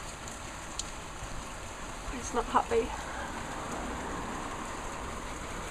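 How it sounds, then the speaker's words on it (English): Steady rain hisses in the background, with a voice briefly speaking over it at moderate distance. "Look at that rain."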